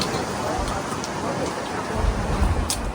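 Steady rain hisses across a car park with a low rumble of passing traffic underneath.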